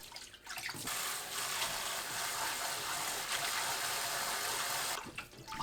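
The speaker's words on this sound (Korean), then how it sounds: "건져서 찬물에 헹굽니다." Running water from a tap pours steadily as blanched shepherd's purse is rinsed in cold water, a continuous broadband splash lasting about four seconds between quieter moments at the start and end.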